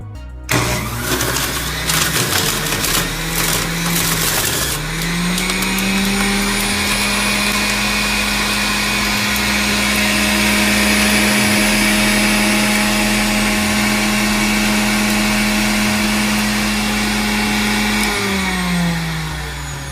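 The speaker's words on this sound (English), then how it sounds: "as you guys can see, the juicer did a pretty quick job" A juicer processing quartered celery: the motor spins up after a few seconds of startup clatter and then holds a loud, steady whine for about thirteen seconds before winding down. No one speaks.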